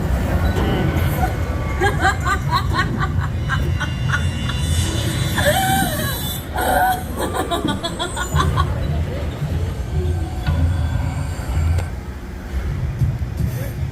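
A Headless Horseman ride train at Six Flags Over Texas rumbles and clatters loudly as it slows, with crowd chatter and laughter mixed in over the noise.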